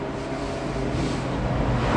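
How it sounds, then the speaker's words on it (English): A Lancia Delta Integrale racing car at Donington Park runs with a steady, loud engine roar and broad rushing noise that swells slightly toward the end, with no talk over it. "this car does sound good"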